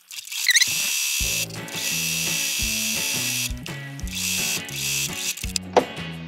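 A sewing machine stitches a fabric bag handle 1 cm from the edge, running in short, rhythmic mechanical bursts separated by brief pauses, close and clear.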